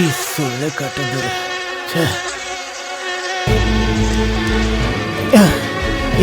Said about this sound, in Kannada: ಸೊಳ್ಳೆ ಕಾಟಪ್ಪ, ನೋಡ್ತಾ ಇದ್ದೀನಿ.